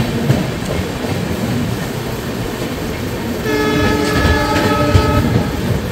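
The Padatik Express rolls along a curve in a steady, loud rumble of wheels and carriages, with a sustained tonal squeal rising over the din partway through.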